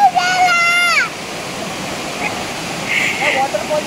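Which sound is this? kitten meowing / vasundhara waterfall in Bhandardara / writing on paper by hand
vasundhara waterfall in Bhandardara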